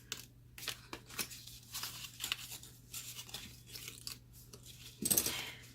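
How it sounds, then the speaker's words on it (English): Paper tabs on a stamped craft box being folded and burnished, heard as a series of soft, close rustles and scrapes with a brief crinkly burst near the end, all fairly quiet and without speech. "you're just going to fold and burnish."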